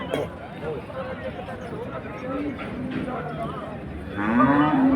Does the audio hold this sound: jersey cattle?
yes